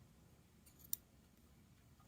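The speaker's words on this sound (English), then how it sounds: "which you can just trim off with your scissors" Scissors trimming off a small serged thread loop at the corner of fabric: a single faint, crisp snip in a quiet room with a low background hiss.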